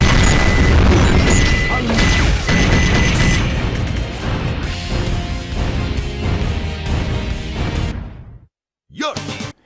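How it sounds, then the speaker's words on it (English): Eggman fires repeatedly at the Rock Golem in Sonic Adventure 2, a dense run of loud crashing, booming game impacts that stops sharply near the end before a brief final burst. "The Rock Golem then turns on Eggman, so he just has to shoot it a few times."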